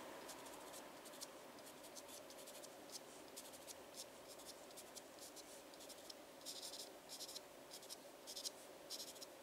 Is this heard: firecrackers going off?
no